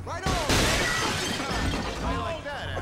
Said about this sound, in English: You start smashing up and he'll come out.